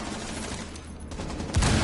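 Video game gunfire, a burst of rapid automatic shots rattling at moderate loudness, followed near the end by a heavier, louder blast.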